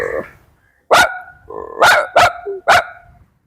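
A person imitates a dog with a few sharp vocal barks in quick succession, loud and close, following a brief voiced lead-in, with near silence between bursts.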